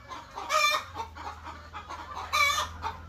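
Local free-range chickens on a poultry farm clucking in two close, loud bursts over a low steady hum, with softer scattered clucks between them.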